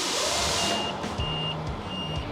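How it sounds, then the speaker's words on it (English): Warning beepers on the dash of a 1988 Mack Superliner truck give three evenly spaced high electronic beeps, heard close over a steady idling engine rumble with lower tonal pulses. "We've got our beepers working."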